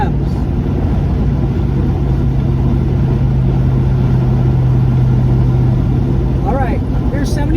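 1970 Chevy El Camino with a 350 V8, TH400 transmission, overdrive and 3.73 Posi rear end cruising at highway speed, a loud, steady engine drone and road roar throughout, heard from inside the car.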